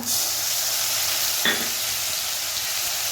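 Chilli, garlic and onion sizzle steadily in hot oil in a pan, a constant crackling hiss with a brief stir partway through.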